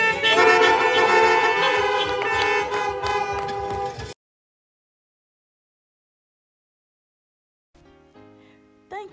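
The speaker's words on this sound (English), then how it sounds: "And all God's people said, amen, and honk for the Lord." Car horns honk together at a parking lot worship service, a loud, dense chorus of overlapping blasts for about four seconds, then silence before a fainter horn sounds near the end.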